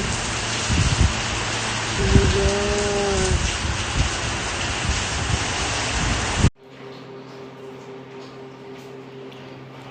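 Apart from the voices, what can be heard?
heavy rain pouring during flooding in UAE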